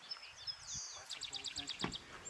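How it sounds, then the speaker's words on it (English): A song sparrow in the Santa Ana Mountains sings a bright series of sweet introductory whistles followed by a rapid buzzy trill, fairly close, over faint background murmur. "that was a song sparrow we just heard just now"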